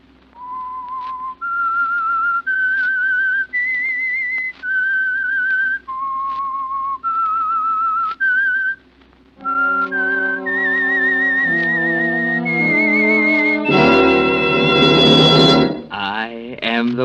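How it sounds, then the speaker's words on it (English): Theme whistle for The Whistler radio drama: a solo melodic whistled tune of rising and falling notes, clear and close, then joined by orchestral music swelling to a loud finish. "That whistle is your signal for the Signal Oil Program"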